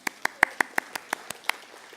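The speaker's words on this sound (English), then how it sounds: "Let's give them a round of applause." A small audience at a book fair claps, about a dozen distinct, fairly faint handclaps in a quick steady rhythm, sounding like only one or a few people.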